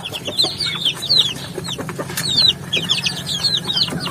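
Chicks, including broiler chicks, peep constantly in high, rapid, overlapping chirps from a close flock, with soft low rustling beneath them.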